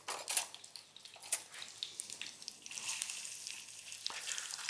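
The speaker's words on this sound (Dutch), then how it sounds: "Kijk, die patatjes leg ik ondertussen in die olie." Potato fries sizzling in hot oil in a pan while cooking moules frites, a steady crackling hiss with occasional pops, close by and without speech.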